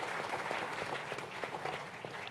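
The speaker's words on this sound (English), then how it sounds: "Please give them a huge round of applause." A conference audience at a dialogue forum applauds, a fairly quiet but continuous wash of clapping with some individual claps popping out and faint crowd murmur underneath.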